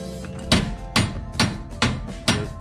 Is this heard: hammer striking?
yes